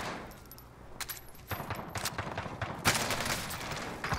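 Rapid gunfire in a Warzone match cracks in scattered shots, then builds into denser automatic bursts, fairly close and moderately loud, with no talk over it.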